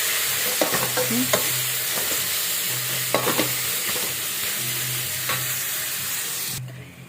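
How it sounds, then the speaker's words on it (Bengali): Mustard greens frying in a pan with turmeric, salt and sugar, giving a steady close sizzle broken by a few scraping stirs of the spatula, with a low hum running underneath and no voices. "এবার এটাকে নুন মিষ্টি দিয়ে সুন্দর করে ভাজবো"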